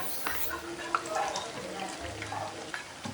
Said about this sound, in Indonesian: Tinggal kita cemplungin ke dalam minyak panas satu-satu kayak gini.